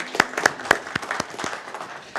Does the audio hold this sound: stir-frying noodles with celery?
no